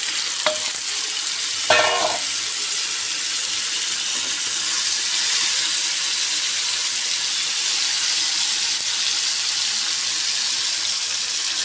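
Taro stolons (loti) going into a hot pan of browned onion and garlic, giving a steady bright sizzle of frying with a few stirring clatters near the start, continuous and close, no voice.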